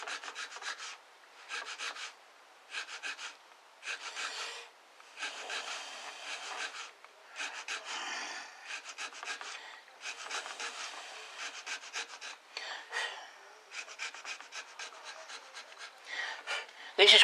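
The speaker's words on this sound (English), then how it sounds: "So what we do is run through that again, just to make them deeper and the same depth as the other side" A hand chequering tool rasps in short, repeated strokes across a wooden gun stock, each burst of scratchy cutting separated by brief pauses in an uneven rhythm, close and fairly quiet.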